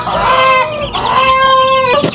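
A mother hen calls up close in two drawn-out, loud, tonal squawks, one right after the other, with no talk around them.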